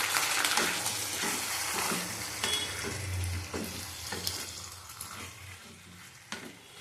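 Chicken for a coconut-milk malai curry sautés in a pan with its boiled stock, a steady close sizzle broken by repeated scrapes and knocks of a stirring spoon, with no talking.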